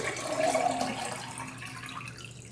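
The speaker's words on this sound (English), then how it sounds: "I'm gonna add the cold water here." Cold water runs from a tap into a container to make sauerkraut brine, a close, steady gushing pour that swells briefly and then settles into a softer flow.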